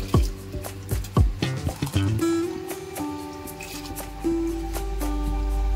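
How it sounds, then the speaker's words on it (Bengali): Soaked rice and lentils are tipped into hot water for khichuri, giving a run of close wet squishes, drips and pours that settle into a low simmering hiss, with no talk. "জলটা আমার গরম হয়ে গেছে, এবার আমি এতে দিয়ে দিচ্ছি ভেজানো চাল, দিয়ে দিচ্ছি ডালগুলো"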